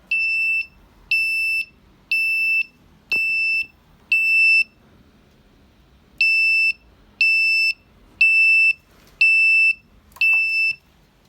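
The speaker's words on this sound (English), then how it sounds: "a warning signal is sent by sounding a buzzer" A high electronic buzzer on an automatic pet feeder's water dispenser beeps an empty-water warning in a steady series of short, evenly spaced tones, pausing briefly midway before resuming; loud and close.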